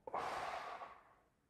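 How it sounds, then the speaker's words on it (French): A single deep breath drawn in and slowly let out during a guided breathing exercise, close and soft, fading over about a second with no talking. "Une respiration."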